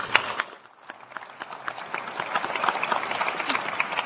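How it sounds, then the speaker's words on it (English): Audience applause at a business club conversation event, moderate scattered clapping that builds slightly over a few seconds, fairly close with no speech. "Ladies and gentlemen, please give a round of applause to the President and CEO of the Board of Trade, Jan De Silva."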